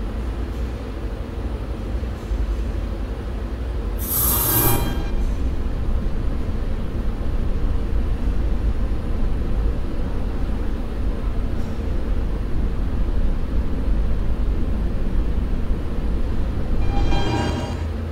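An R160B subway car on the D train rolls along with a continuous loud low rumble and rattle, broken by two brief high squeals or hisses.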